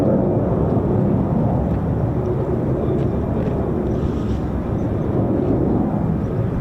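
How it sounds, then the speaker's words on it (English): F-15 fighter jets roar on takeoff at RAF Lakenheath while F-35s spool up in the distance, a loud, dense, continuous rumble that holds steady the whole time. "There's another 2 F-15s, and I can actually genuinely hear F-35s spooling in the distance."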